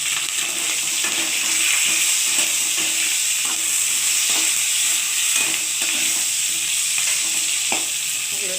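Spices and a fish head fry in a pan with a loud, bright, continuous sizzle, broken by repeated soft thuds and scrapes of stirring.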